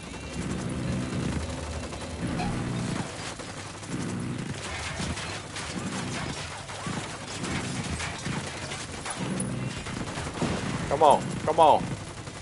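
Gunfire rattles in a shooting video game as repeated shots and bursts over about twelve seconds, with someone briefly speaking over the action.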